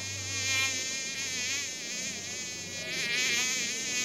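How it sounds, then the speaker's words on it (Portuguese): A fly buzzes continuously for several seconds, a loud, close, steady whine that wavers slightly in pitch, part of a hidden-camera prank, with no talking. "Gente, essa mosca é muito perigosa."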